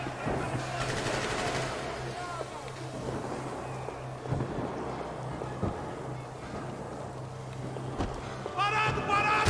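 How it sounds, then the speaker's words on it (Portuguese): Rapid bursts of gunfire in Max Payne 3 crackle over a steady electronic hum, with scattered sharp shots and busy game-like noise throughout. "só os barulhos de tiro"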